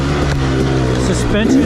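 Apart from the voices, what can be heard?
KTM 300 XC two-stroke dirt bike engine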